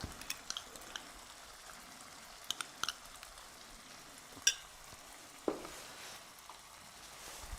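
A spice masala with tomatoes and yogurt fries in a pan for cauliflower and pea curry, giving a soft, steady sizzle broken by scattered clicks and a couple of louder scrapes as it is stirred.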